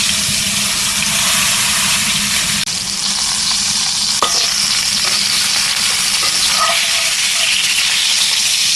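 Steak searing in a pan over really high heat while cooking in a van near Sedona, Arizona; a loud, continuous sizzle and crackle with a few brief pops, with no talking.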